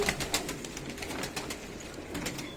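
Large pigeons coo softly and repeatedly close by over a low background hum, with a few faint flutters and rustles between the calls.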